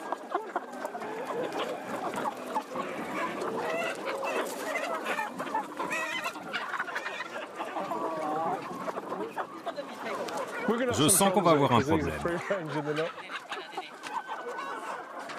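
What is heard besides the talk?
chickens clucking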